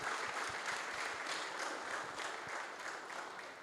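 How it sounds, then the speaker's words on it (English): Applause at a golf championship ceremony, a faint, distant wash of many hands clapping continuously, soft and steady without individual claps standing out. "A big round of applause to Indorama Ventures."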